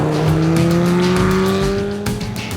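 Loud, close engine roar with a rising pitch as a supercar accelerates on a mountain pass, the revving tone climbing steadily before easing off.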